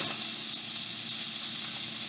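Butter sizzling in a hot pan on high heat, a steady, close, even hiss with faint crackle running throughout, no talk over it.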